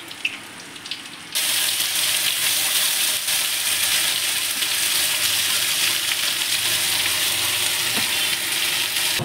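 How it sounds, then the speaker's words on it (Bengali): Ground spice paste for doi katla frying in hot oil after a whole garam masala and cumin tempering: a loud, steady, close hiss that bursts in after a quiet start and holds evenly to the end. "মশলাটা এবার আমি কষিয়ে নেব,"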